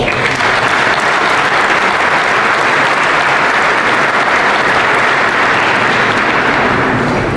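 A room full of luncheon guests gives a steady, loud round of applause for outreach staff at an annual union luncheon, dense clapping holding evenly from start to finish.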